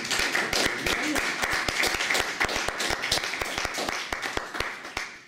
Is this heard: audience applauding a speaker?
yes